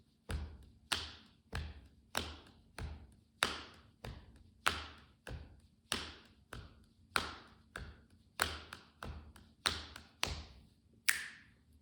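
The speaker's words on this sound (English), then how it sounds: "Now if you were to play this drum beat quickly, it'll sound like this." A fast worship drum beat played alone: sharp, evenly spaced hits at a quick steady pulse, each with a short decaying thud, close and moderately quiet.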